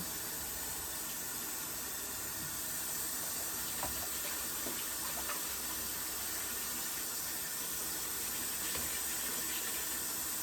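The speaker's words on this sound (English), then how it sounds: "Now I gotta rinse out my bowl." Tap water runs steadily into a mixing bowl as it is rinsed out in a home kitchen, a constant close hiss with faint clinks and splashes throughout.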